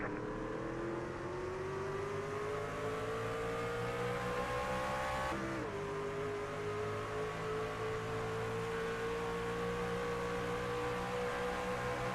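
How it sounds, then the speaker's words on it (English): A race truck engine roars steadily, its pitch climbing and then dropping briefly at a gear change before rising again, loud and continuous, at a race in Atlanta. "Gonna listen to him going through the gearbox here on the CSR broadcast"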